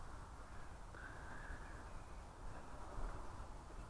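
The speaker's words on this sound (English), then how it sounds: "All the birds are piping up." Crows cawing faintly in the distance outdoors as the sun gets low, their calls barely rising above a steady wash of broadband background noise.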